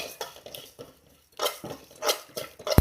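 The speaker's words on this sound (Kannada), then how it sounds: "ಈಗ ಇದಕ್ಕೆ ತೆಗೆದುಕೊಂಡ ಲವಂಗ ಮತ್ತು ಕಾಳು ಮೆಣಸನ್ನು ಹಾಕಬೇಕು." Whole cloves and black peppercorns tipped into a pan while cooking Mangalore-style chicken sukka, with a few soft metallic clinks and scrapes of a spoon against the pan, close and fairly quiet.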